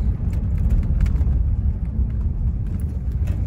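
A 1966 Cadillac Sedan DeVille rolls along on old tires, heard from inside as a steady low engine and road rumble with no talking.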